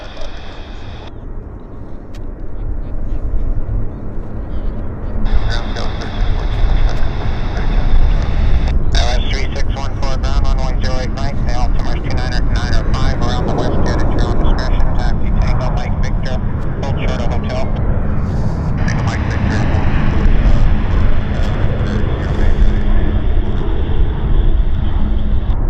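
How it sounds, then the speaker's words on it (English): Jet aircraft taking off one after another at Vancouver YVR airport, a loud continuous roar heard from a plane-spotting spot, buffeted by wind noise, with a voice talking over it. "It's one aircraft after another."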